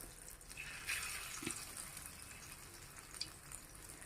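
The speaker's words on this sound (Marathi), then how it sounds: "ह्या वड्या यामध्ये टाकून छान खरपूस होईपर्यंत दोन्ही साईडने ह्या तळून घ्यायच्यात आपल्याला" Alu vadi, sesame-coated colocasia leaf rolls, fry in hot oil over a lowered gas flame, giving a faint, steady, hissing sizzle with no voices.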